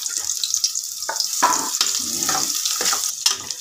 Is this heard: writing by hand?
no